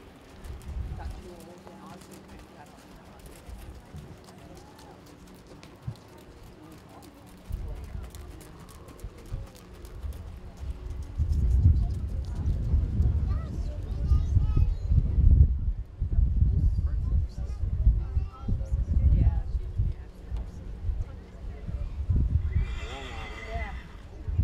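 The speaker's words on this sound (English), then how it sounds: "jog your horses" Horses and ponies in a 4-H county fair western class jog around an arena, with clear hoof clip-clops and loud whinnies growing busier after the quieter opening, while an announcer and other voices talk in the background.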